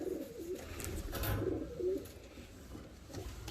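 Fancy show pigeons coo in low rolling phrases, a few soft calls close by over a murmuring background.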